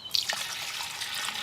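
Water pours into a brewing vessel already holding fruit and honey for a melomel, a close, steady splashing trickle that starts suddenly and runs on without break, alone and without talk.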